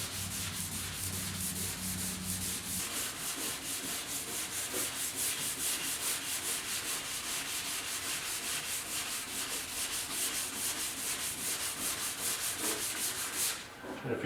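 Clear coat is sanded on a fiberglass Porsche 911 decklid in a steady, continuous rasping rub of fast repeated strokes. It stays close and fairly quiet throughout, then cuts off near the end.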